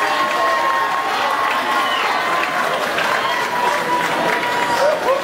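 A large crowd claps and cheers continuously for a high school football team at Gillette Stadium, with shouts and whistles rising over the steady applause in a big, echoing space.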